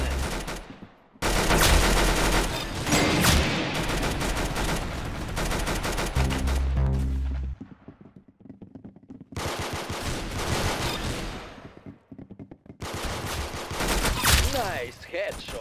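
Rapid automatic gunfire in the Roblox shooter Arsenal, loud dense bursts with brief gaps and a quieter stretch in the middle, along with game effects and a voice that can be heard in places.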